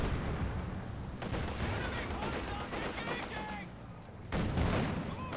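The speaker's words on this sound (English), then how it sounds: "Mortar is shelling the Sturm Pioneers quite nicely." Battle sounds from the Company of Heroes 2 real-time strategy game, with mortar shells landing and gunfire around Sturm Pioneers. Dense, continuous crackling and booms run throughout, with a louder burst near the end.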